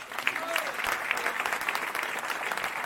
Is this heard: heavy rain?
no